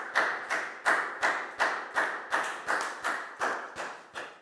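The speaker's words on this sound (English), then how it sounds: "Give yourselves all a big round of applause." A class of Year 4 pupils clapping in a regular rhythm, about a dozen sharp, evenly spaced claps in unison, close and clear, with no talking over them.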